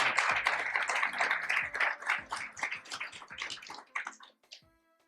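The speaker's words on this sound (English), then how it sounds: "Round of applause." A live audience at a talk on AI for software gives a round of applause, dense overlapping claps that run steadily for about four seconds and then thin out to a few last scattered claps.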